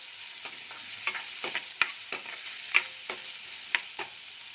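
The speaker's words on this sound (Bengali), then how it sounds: "আলুটা আমার হাফ ভাজা হয়ে গেছে" Potatoes fry in oil with salt and turmeric, a soft steady sizzle broken by scattered clicks and sharp stirring scrapes every second or so, close and fairly quiet, with no voices.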